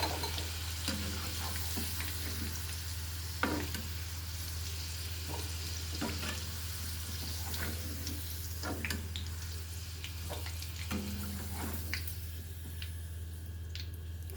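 Ingredients for a spicy gooseberry pickle fry quietly in a pan, with a soft, even sizzle and occasional sharp scrapes and taps from stirring.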